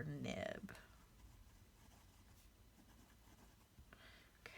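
A fountain pen, an Esterbrook Estie in lilac with gold trim and a custom-ground medium journaler nib, scratching faintly and softly across paper between bits of close talking at the start and end.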